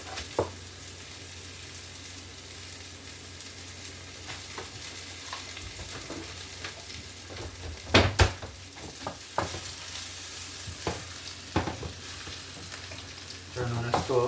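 Food sautéing in olive oil on a stove while cooking tinned mackerel makes a soft, continuous sizzle, broken by clattering utensil knocks and stirring sounds near the end.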